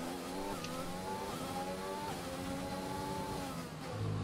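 A Formula 1 car accelerating out of the pits at Zandvoort in the F1 2020 video game, its high-pitched engine whine rising through repeated gear changes, loud and steady.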